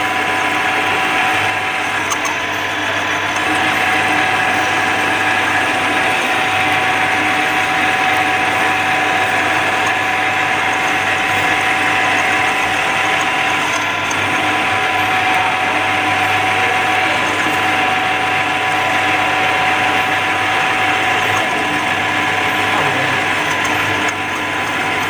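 A conventional metal lathe turning and cutting a steel workpiece, a loud steady mechanical hum with whirring gear tones and a constant scraping edge running unbroken throughout, with no voices.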